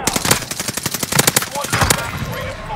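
Rapid automatic gunfire in a video game rattles in quick, close bursts of sharp shots, with game voices and player chatter mixed underneath.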